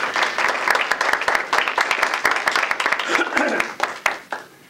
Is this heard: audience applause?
yes